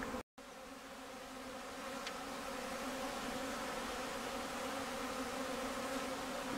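Honeybees buzz in a dense, continuous drone on a calm February cleansing flight, many insects circling near the hive, the hum steady and rising slightly after a brief cut at the start.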